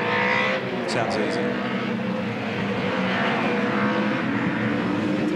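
A 2007 V8 Supercars race car at about 250 km/h on the Phillip Island circuit, its engine drone continuous and loud beneath excited commentary, with brief high squeals near the start.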